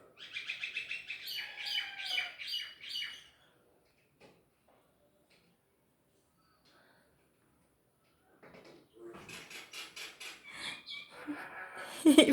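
Common myna chirps in quick repeated bursts, fairly close, then falls quiet for several seconds before a second, longer stretch of chattering calls.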